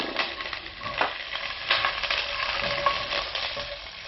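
About a cup of garlic frying in olive oil in a pan, a steady close sizzle with soft crackles and light stirring, with no voices.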